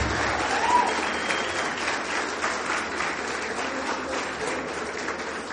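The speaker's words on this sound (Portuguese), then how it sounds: "Uma salva de palmas para vocês." Steady applause from a business seminar audience, dense and even throughout, with no speech over it.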